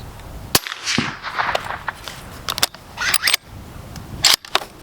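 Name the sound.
suppressed 7.62 rifle firing a supersonic round into a pond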